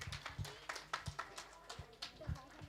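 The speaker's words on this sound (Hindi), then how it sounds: "तालियां बजाइए एक बार।" An audience at an annual school function claps in scattered, uneven bursts, moderately close, with a voice speaking over the applause.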